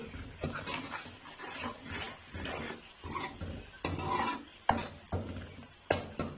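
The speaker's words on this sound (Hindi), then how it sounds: "चम्मच चला लेंगे।" A spoon stirs turmeric powder and salt in a sizzling pan for turnip curry with a steady back-and-forth rhythm, fairly faint with occasional sharper clinks of metal.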